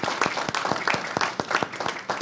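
Audience applause at a skilled trades task force meeting, a steady wash of many hands clapping at close range that keeps going without a break.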